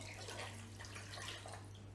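Water poured into a saucepan for orange syrup, a soft, steady, continuous splashing stream heard close but faint, with a low hum underneath.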